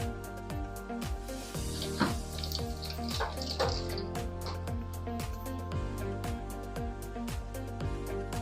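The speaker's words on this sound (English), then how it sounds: "start sucking some of that water out of here" Water is siphoned out of an Amazon aquarium tank, a steady trickling, gurgling flow with faint drips and scattered clicks running continuously at moderate level.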